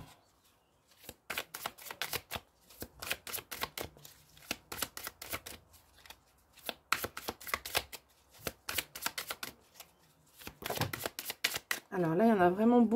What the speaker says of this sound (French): je vais tirer tout de suite les cartes pour le pro, le sentimental